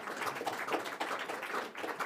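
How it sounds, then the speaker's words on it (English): Scattered clapping from an audience at an honoring event, a steady patter of hand claps at moderate distance lasting a couple of seconds with no one talking over it. "They deserve a round of applause for putting up with that."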